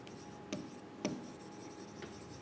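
Marker or chalk writes on a board in a quiet classroom, with a few soft scratchy strokes and light taps spaced across a couple of seconds.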